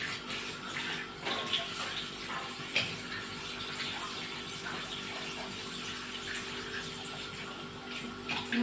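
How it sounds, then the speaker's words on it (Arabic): Parsley and coriander are rinsed under a running kitchen tap, making a steady, soft gush of flowing water with occasional splashes as the herbs are handled. "ونغسل شويه بقدونس، كزبره وبقدونس، نغسلها غسله حلوه كده"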